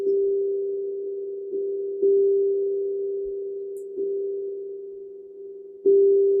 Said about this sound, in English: As we begin to hear the tones